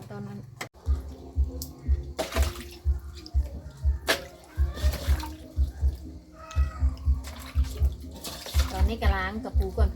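Rice-field crabs are rinsed in water before frying, with splashing, dripping and sloshing pulses recurring throughout while a person talks over the washing.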